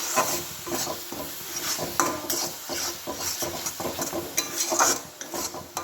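A spoon stirs coriander-leaf chutney in a pan, making close, repeated scraping and light clinking strokes at a steady pace with no voices.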